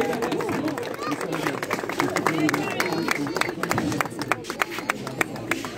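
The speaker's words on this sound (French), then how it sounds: "Des acclamations. Applaudissez." A crowd claps and cheers at the inauguration of a dojo in Karthiack, Casamance: steady close clapping with scattered sharp claps, mixed with crowd chatter and talking throughout.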